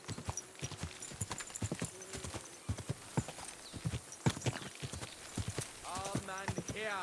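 Horse hooves clop unevenly near at hand while people talk over them, and a horse whinnies toward the end, in Kingdom Come: Deliverance II.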